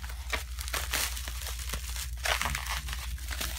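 Scissors snip and cut through plastic doll packaging for a Monster High doll, giving a close run of crinkling, tearing and crunching sounds in quick bursts with no talking.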